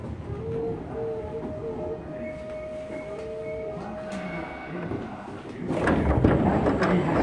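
A Tokyu 8500 series electric commuter train on a Tobu Skytree Line semi-express run rumbles steadily along with a faint whining motor tone, then grows louder and rattlier near the end.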